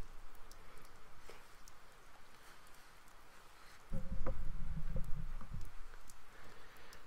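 Rain falls in the video game Persona 4 Golden as a soft, steady patter that fills the whole stretch, with a louder low game sound joining midway and no speech.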